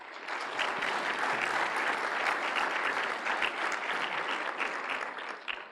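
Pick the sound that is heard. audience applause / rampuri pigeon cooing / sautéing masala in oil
audience applause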